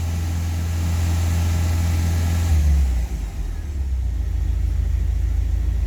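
Car engine held at about 2000 RPM during a tune-up, a steady loud low rumble for several seconds that dips briefly and settles back into a continuous drone, with no talking.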